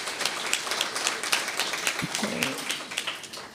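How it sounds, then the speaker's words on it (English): A conference audience applauds at a closing ceremony: sustained, even clapping from a large crowd, fairly quiet and continuous, with a brief voice surfacing partway through. "So just give yourselves a round of applause for completing the end of"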